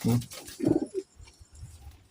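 A low Teddy pigeon coo rises briefly at close range, followed by quieter soft murmurs and faint background rustling.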